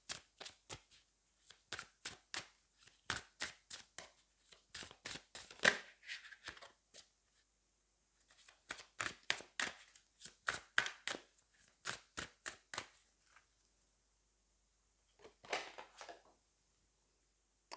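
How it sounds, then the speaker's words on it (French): Tarot cards are handled and shuffled close up, with quick rhythmic runs of crisp snapping flicks in several bursts and quiet gaps between them, and no voices. "je vais quand même tirer la carte et regarder"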